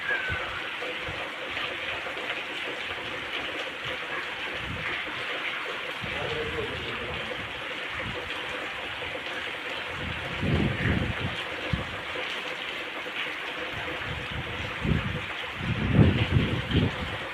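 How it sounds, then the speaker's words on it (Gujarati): Wind and rain lash the fields near Ghoba village in Savarkundla taluka, a steady broadband rush of rainfall and gusts with occasional louder bursts near the end, while people talk over it. "પવન ને વરસાદ"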